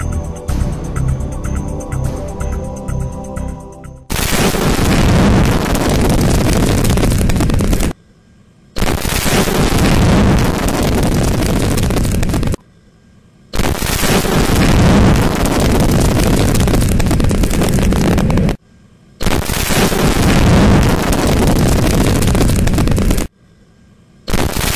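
GQM-163A Coyote target vehicle's solid propellant booster rocket launch, heard as a series of loud, roaring bursts of rushing thrust noise separated by brief silent cuts, following a quieter mechanical hum at the start.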